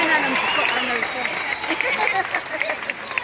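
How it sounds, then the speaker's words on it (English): Steady applause from a church congregation, with cheering voices and chatter mixed in, sustained throughout. "Now clap it up for Jesus."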